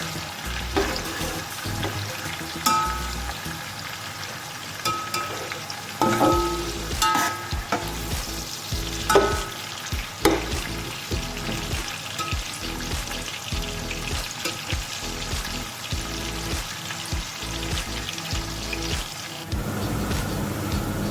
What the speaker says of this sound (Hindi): हमारी अनियन फ्राई हो रही है।